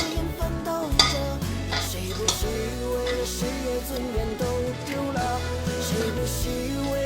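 Food seasoned with high-proof baijiu, light soy sauce and savoury soy is tossed and mixed in a bowl, with repeated clattering, scraping utensil clinks over a low steady hum and no talk.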